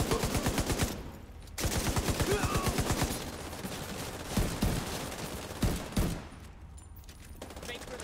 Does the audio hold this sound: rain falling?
no